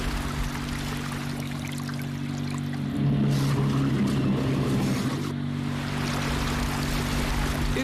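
Fishing boat motor recorded underwater off Tierra del Fuego: a steady low droning hum with a constant tonal whine, swelling louder for a few seconds in the middle over a wash of water noise, with no voices.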